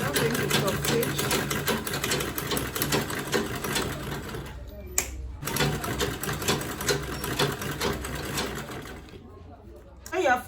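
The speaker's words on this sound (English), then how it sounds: "I'm going to top stitch." A sewing machine top-stitching a quilted tote bag, running in a fast, steady mechanical rattle with two brief pauses, while a person talks over it.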